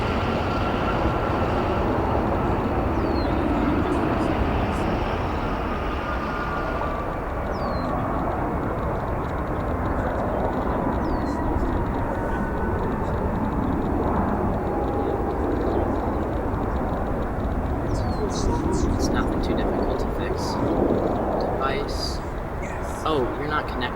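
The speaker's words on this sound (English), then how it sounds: "We got a couple heavy aircraft departures that'll be coming pretty soon here." Heavy jet aircraft at O'Hare International Airport, a broad steady engine roar filling the whole clip with constant loudness, with faint chirps and a person talking briefly in the background.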